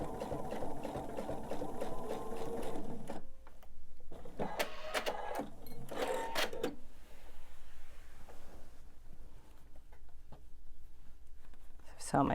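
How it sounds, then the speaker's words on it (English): A sewing machine stitches quilt blocks in short runs across pinned seam intersections, its motor whirring in brief bursts between pauses while a person talks quietly nearby. "I'm just going to sew about 1/2 inch before and after each one of my 2 intersections that I've pinned."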